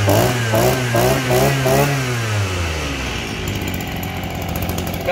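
A Japanese grass cutter's small engine runs close and loud, pulsing through a few quick revs before settling into a steady buzzing idle.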